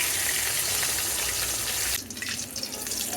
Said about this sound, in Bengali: সবগুলো মাছ ভালোভাবে বেজে নিলাম